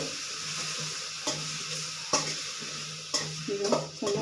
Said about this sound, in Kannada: ಈಗ ಚೆನ್ನಾಗಿ ಫ್ರೈ ಮಾಡ್ತಾಯಿದ್ದೀನಿ.